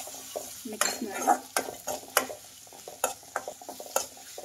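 Poppy seeds and coriander seeds roast in a pan while a spoon stirs them, bringing repeated sharp scraping and clinking strokes over a light, dry sizzle.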